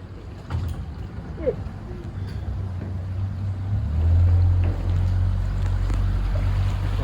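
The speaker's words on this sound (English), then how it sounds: "There's about 40 boats behind me." Low droning engines of about 40 motorboats on Lake Maitland, Florida, rumble steadily nearby, growing louder midway, with wind and faint background murmurs over the continuous hum.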